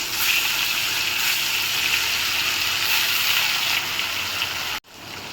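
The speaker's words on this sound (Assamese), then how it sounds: "কেৰাহী গৰম হৈছে, ইয়াতে মই তেলখিনি দি মাছখিনি ভাজি ল'ম।" Fish fry in hot oil in a kadhai, giving a steady, bright sizzle that holds for several seconds before a sudden brief cut near the end, close up and with no talking.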